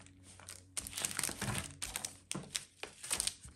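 Card stock for a Stampin' Up craft being cut by hand, with crisp crinkling and crackling bursts of paper handling and cutting in close, irregular strokes, no talking.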